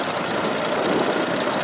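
A 1936 International 1020 tractor built by International Harvester runs at a vintage rally, giving a steady, dense engine drone with a low knocking pulse that stays constant throughout.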